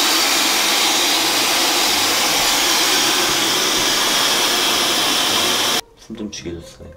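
A hand-held Airwrap hair styler blows hot air in a loud, steady, close whoosh for about six seconds, then cuts off abruptly and leaves quieter room sound with brief talking.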